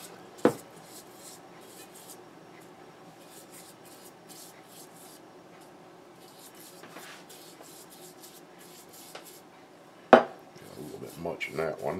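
A brush works melted butter, lard or shortening into cast iron corn stick pans with quiet, continuous rubbing, punctuated by two sharp metallic clanks of the bakeware.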